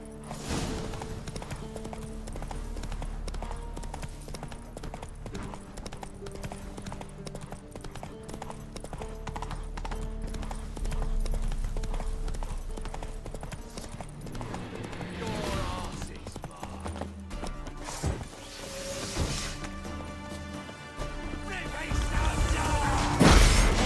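Roach, the horse in The Witcher 3, gallops in steady rhythmic hoofbeats beneath game music, with occasional thuds and a whinny, and a voice speaks over it.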